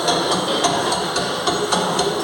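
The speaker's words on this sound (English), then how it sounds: "And the constant hammering against the shell plates." Recreated hammering against steel shell plates of the Titanic's hull in a museum exhibit, a rapid, regular series of metallic knocks repeating several times per second over a steady background drone.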